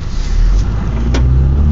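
A 2012 Range Rover Evoque engine runs with a steady low rumble, close and fairly loud, with a brief swell partway through and no talking.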